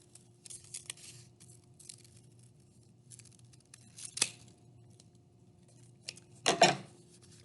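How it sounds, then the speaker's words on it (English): Scissors snipping through paper to cut out a raindrop shape for a thunderstorm craft, a few quiet scattered snips with one louder crisp cut near the end, close by, with no one talking. "carefully cut it out with your scissors"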